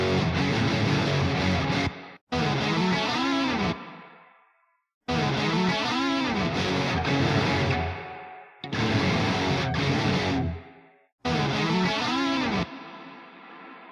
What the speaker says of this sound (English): A huge reverb sound.